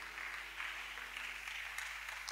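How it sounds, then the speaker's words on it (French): A church congregation at a prayer service claps continuously, a dense, fairly distant wash of applause that holds steady throughout. "acclame pour Jésus"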